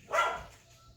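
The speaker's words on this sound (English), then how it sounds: "the dogs are barking to let us know that the kids are coming back in" A single short dog bark indoors, fairly faint and slightly distant, fading into quiet room tone.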